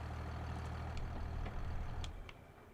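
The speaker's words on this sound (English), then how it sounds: "Actually, no, I'll park the tractor up top." A tractor engine in Farming Simulator 25 runs with a steady low rumble that holds evenly, then drops in level near the end as it settles, with faint higher clicks over it and no talk.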